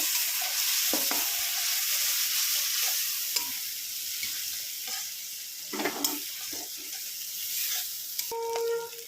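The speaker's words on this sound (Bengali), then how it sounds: "পেঁয়াজ তেলের মধ্যে দিয়ে কড়াইতে দেখুন হচ্ছে" Onion, green chilli and garlic fry in fish oil in a wok with a continuous hiss, punctuated by occasional scraping stirs and clinks of a spatula, moderately close, with no voices.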